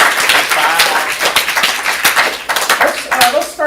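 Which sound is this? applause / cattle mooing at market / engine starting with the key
applause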